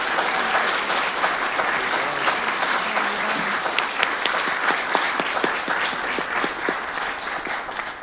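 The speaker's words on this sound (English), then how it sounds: "Let's give a round of applause for our speakers." Audience applause for student debate speakers at a debate event, a steady dense wash of many hands clapping for about eight seconds with scattered sharper individual claps.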